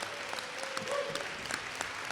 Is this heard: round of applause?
yes